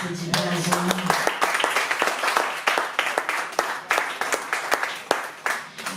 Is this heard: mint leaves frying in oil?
no